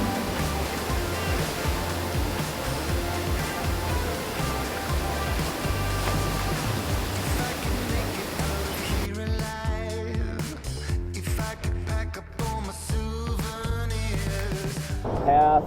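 Broadband roar of a waterfall in the Australian outback, about 100 meters away, loud and steady throughout. Partway through, a sharper, splashier texture joins it, and a voice is barely audible under the noise.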